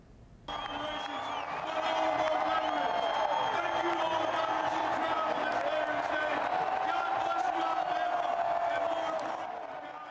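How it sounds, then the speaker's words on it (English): Stadium crowd at the Alabama-Louisiana college football game in Tuscaloosa cheering as the president is received, a broad sustained roar with whoops rising and holding, heard at a distance through a broadcast. "pretty big cheer there"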